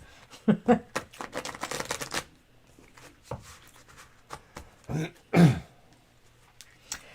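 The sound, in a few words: shuffling tarot cards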